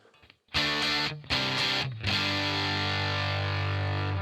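An electric guitar runs through a cranked amp on a Headrush pedalboard, giving loud distorted chords with a few short choppy stabs before one long sustained ringing chord.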